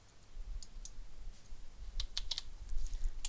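Keys clack in short bursts on a computer keyboard while drawing shapes in CAD software, a few quick presses and spacebar taps, close and fairly quiet.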